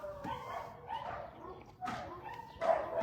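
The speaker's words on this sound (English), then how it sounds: "I do find it so cute how all the neighboring dogs are just talking to each other" Neighbourhood dogs calling to each other in a series of short barks, yips and whimpers, some closer and some farther off, broken by brief pauses.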